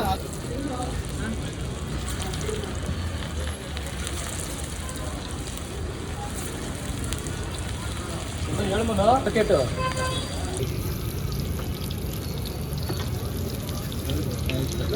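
Kaima vada frying in hot oil, a continuous close sizzle and crackle that swells briefly midway, with a person talking over it.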